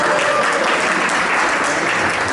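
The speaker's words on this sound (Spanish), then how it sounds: "Denle un aplauso fuerte a la Cami también" Steady, loud applause from a Sunday church congregation honoring a woman named Cami, many hands clapping at once with a few murmured voices beneath.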